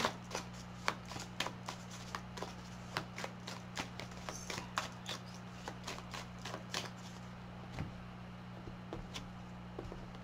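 Oracle cards shuffled and drawn by hand, with a series of soft, close riffling and slapping bursts at irregular intervals over a quiet steady hum.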